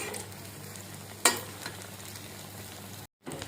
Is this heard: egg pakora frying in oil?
yes